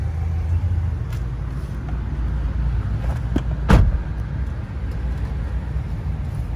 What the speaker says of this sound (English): Now enough talking, let's take you on a short test drive.